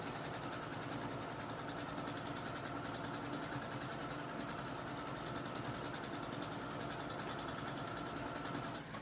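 A sewing machine quilts an S-shaped pattern on a table runner: a rapid, even mechanical whirring hum that runs without a break, close and steady, with no talking.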